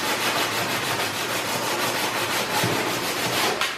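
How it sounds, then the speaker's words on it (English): Quick hand sanding on the epoxy-coated hull of a wooden kayak makes a steady, rhythmic rasping of back-and-forth strokes, close by and with no voices. "So real quick sanding here."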